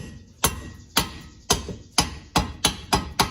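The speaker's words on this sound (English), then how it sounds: "I like to just take a Deadblow hammer" Eight sharp, solid dead blow hammer blows on a wrench during an Acura TSX/Honda Accord brake job, close and loud, in an uneven rhythm with short pauses between strikes.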